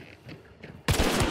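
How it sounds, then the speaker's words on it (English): Grenade detonating in a shooter video game, a sudden loud blast after a second of quieter background noise, with the boom rumbling on to the end. "Throwing a grenade."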